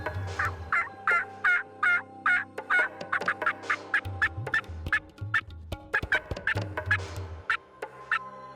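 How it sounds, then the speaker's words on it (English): Several wild turkeys gobble loudly and repeatedly in a field, overlapping calls in quick bursts from nearby birds, with no one talking. "We got birds all around us."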